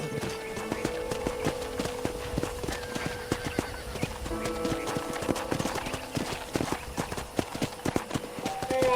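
A horse in the western video game Red Dead Redemption clip-clops along at a steady walk, hooves knocking in an even rhythm under a light wind bed with an occasional snort or whinny.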